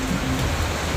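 Heavy rain pours down steadily in a dense, even hiss with a low rumble beneath, close and loud throughout without a break.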